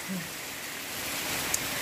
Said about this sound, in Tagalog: So ganito na lagi. Every day. Sa gabi din, umuulan.